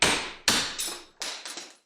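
Five sharp hammer blows drive a bearing out of an electric motor armature through a rod, struck close up in an uneven rhythm with short ringing decay after each hit.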